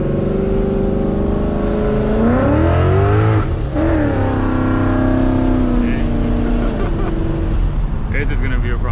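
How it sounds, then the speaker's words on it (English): A Ford Mustang with a Paxton supercharger runs at wide open throttle on a dyno, a loud, continuous engine roar with pitch climbing, dipping at a gear change, then climbing again. "we're only gonna do second to third gear pull, wide open throttle"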